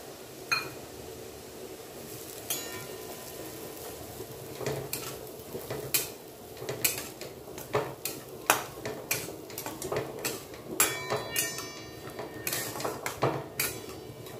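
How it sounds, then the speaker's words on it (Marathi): Coarse wheat roasting in ghee for Maharashtrian lapshi on a low flame, with a soft sizzle beneath repeated sharp clinks and scrapes of a spoon against the pan, close and fairly quiet, no talking. "अगदी कमी गॅसवरती आपण हा चांगला भाजून घेणार आहोत। सारखी हलवायची म्हणजे खाली लागत नाही।"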